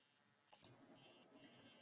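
Two quick, faint mouse clicks close together on a software button, followed by quiet room tone.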